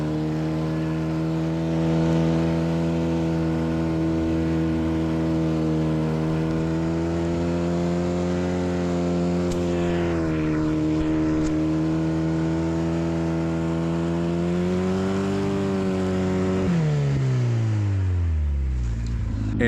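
A 4x4 buggy toy car whines steadily with a strong harmonic motor tone, pitch holding level with small shifts before dropping sharply near the end as it slows.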